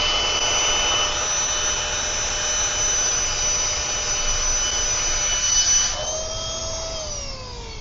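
Battery-powered air pump inflating a Tesla Model Y mattress, a steady loud whirring drone heard alone that shifts pitch downward near the end as the motor slows.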